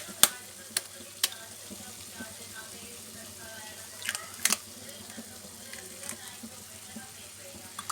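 Spiced masala for masala fried egg frying in a pan as eggs go in: a quiet steady sizzle broken by several sharp clicks and taps, with occasional soft voice in the background.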